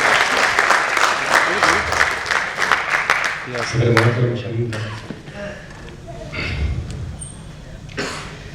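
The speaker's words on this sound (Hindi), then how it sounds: "एक बार जोरदार तालियां अपने आप के लिए।" Audience applause breaks out at a Mumbai mushaira poetry gathering, a dense loud clapping that thins after a few seconds into scattered claps, a cough and low murmurs from the seated crowd.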